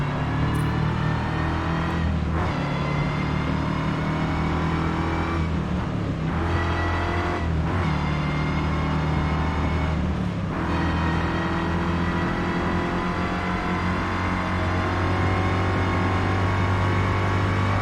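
Race car engine in Forza Motorsport, a steady droning hum at sustained revs with a few short dips as gears shift or the throttle lifts, continuous and up front with no talk.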